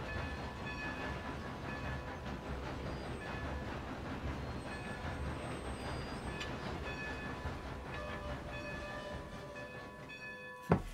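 A train ride in the video game Red Dead Redemption 2, with a continuous rumbling roll and clickety-clack of wheels on track, a faint squeal, and a sharp knock just before the end.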